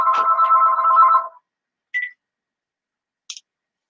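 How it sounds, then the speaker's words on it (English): A telephone rings at home with a single buzzy electronic ring lasting about a second, followed by two short faint chirps in otherwise near silence. "Oh no, that phone again."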